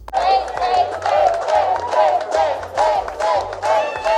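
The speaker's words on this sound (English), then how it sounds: "Loren and the friends start chanting and cheering for Faith to go up there and show everyone her moves" A group of friends at a drag show chanting and cheering in rhythmic bursts, loud excited voices rising and falling together over a low, pulsing musical beat.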